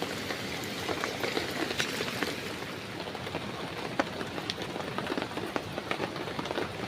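Heavy rain falls steadily in a dense, even hiss of drops striking surfaces, with scattered louder individual splashes and no break in the downpour.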